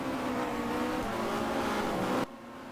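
Touring car race engines at the Nordschleife, a Peugeot and an Alfa Romeo among them, roar loud and steady at high revs as they pass. The roar then drops abruptly to a quieter hum.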